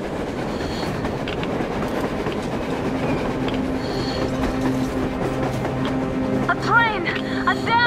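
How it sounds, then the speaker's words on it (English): A train rolling across open ground in the video game Metro Exodus, a steady rumble with rail clatter throughout and brief squeals near the end, with voices talking over it. "A damn train on the surface!"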